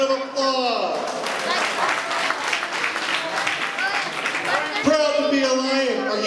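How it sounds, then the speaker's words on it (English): An audience claps steadily at a Lions Club and Leo Club installation ceremony, with dense, sustained applause and cheering filling the room and voices talking over the top. "give yourselves a round of applause"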